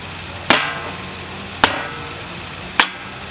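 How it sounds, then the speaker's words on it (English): A hammer strikes a bamboo splitter set against the end of a bamboo pole, three sharp separate whacks about a second apart over a steady background hiss. "Place the bamboo splitter against the end of the bamboo and strike it with your hammer."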